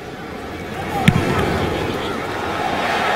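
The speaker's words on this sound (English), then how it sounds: "Booming kick." Punt in an NFL game, Houston Texans at Carolina Panthers, 2015: a single sharp thump at about a second in, brief and over constant stadium crowd noise.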